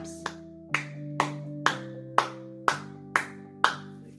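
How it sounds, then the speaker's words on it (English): Eight sharp hand claps at a steady, evenly spaced beat, each crisp and fairly close, with a sustained musical tone playing beneath them. "So we've got our claps"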